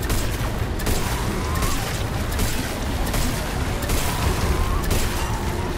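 Gunfire and combat noise from the sci-fi survival horror game The Callisto Protocol, a steady dense wash of booming shots and impacts running throughout, fairly loud, with faint talk mixed in.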